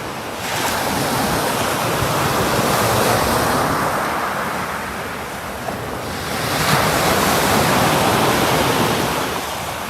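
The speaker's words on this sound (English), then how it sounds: "The water's now hitting the rod rests on the bigger waves." Big sea waves breaking on a rocky shore at Mannings Rock Bays, Felixstowe, a loud continuous roaring wash that swells twice, with wind buffeting the microphone and no voices.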